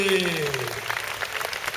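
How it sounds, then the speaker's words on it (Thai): Audience applause for performers on stage at a charity sports birthday event, a steady crackle of clapping that carries on for the whole stretch after a brief sung or spoken voice at the start. "ปรบมือทุกท่านบนเวที"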